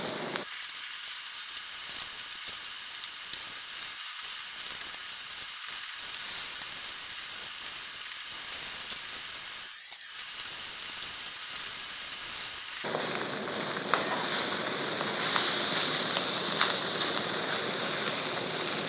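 Beef stir-fry sizzles in a wok while being stirred: a steady, dense crackling hiss that grows noticeably louder and fuller in the last several seconds, with no talking.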